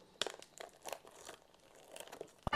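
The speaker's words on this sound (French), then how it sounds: "On va le déballer tout de suite." Plastic film crinkles and crackles as a 4K Blu-ray steelbook of The Monkey is unwrapped, with irregular close crumpling bursts and a sharp tear near the end, no voices.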